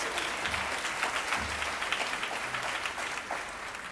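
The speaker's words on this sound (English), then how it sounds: "give yourself a round of applause" Steady applause from an audience gathered at an Impact 100 grant recipients event, a dense wash of many hands clapping evenly throughout, moderately loud with no voices on top.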